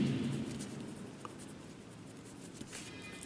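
Writing during a maths lecture on linear partial differential equations, a faint, steady scratching of strokes close by under a low room hiss, with almost no talk.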